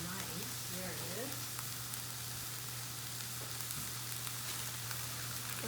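Cumin sizzling in a dry pan without oil, a faint, steady crackling hiss under a low hum, with soft background voices barely present.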